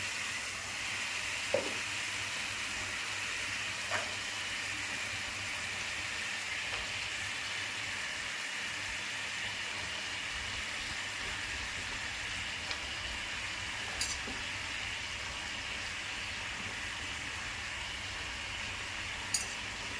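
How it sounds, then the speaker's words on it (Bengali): Bottle gourd pieces frying in spiced oil in a pan, a steady moderate crackling sizzle like light rain, continuous throughout with occasional soft pops and clicks. "মশলা ভাজা হয়ে গেছে, এখন আমি লাউগুলো দিয়ে দিচ্ছি।"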